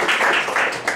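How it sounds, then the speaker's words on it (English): A class of students applauding, a short, fairly loud burst of dense clapping from a small group in a room, steady and without talk. "So a round of applause to you guys."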